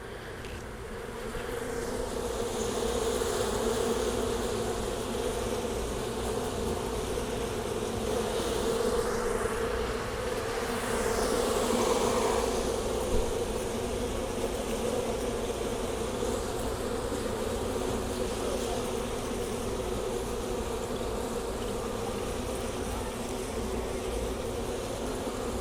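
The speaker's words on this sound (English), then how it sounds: "all the bees trying to eat my sweat or whatever it is they're doing" Honey bees buzz densely around an open beehive during a varroa mite check, a continuous loud droning swarm close by for the whole stretch, with no voices.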